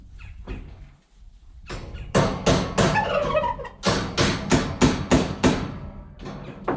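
Turkeys sounding off with a series of loud, rapid gobbles in close succession, nearby, with a brief gobble early and a dense burst of repeated calls through the middle and end.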